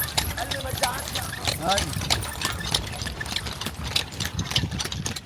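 Horse hooves clip-clop steadily on a street in Egypt as a horse pulls a cart, close by and continuous, with engine rumble, traffic and people talking mixed in underneath.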